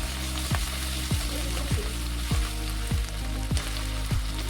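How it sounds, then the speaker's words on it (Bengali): Ginger fries in hot oil with turmeric, a loud close sizzle joined by a regular series of sharp scraping strokes from stirring, about one every half second. "এরপর সামান্য কিছুক্ষণ আদাটাকে ভেজে ওই মশলার পেস্টগুলিকে সব দিয়ে দিলাম"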